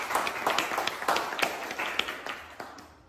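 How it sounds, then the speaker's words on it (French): Applause from a stand-up comedy audience at a McDonald's-themed show, a dense crowd clap fading out over a few seconds, moderately loud in a reverberant room. "quand même, un applaudissement"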